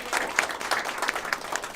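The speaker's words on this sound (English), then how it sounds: "Let's give our panelists a round of applause" An audience at a Boston marketing and advertising industry panel event claps for the panelists, a brief, even burst of applause from many hands filling the room.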